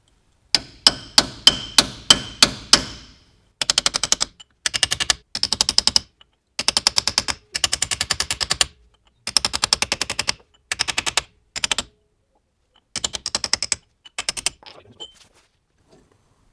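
A hammer strikes the spindle of a Corporate 10 Bolt/Dana 44 front axle to loosen it. A fast series of sharp, close, loud metallic blows comes in clusters of rapid strikes separated by short pauses.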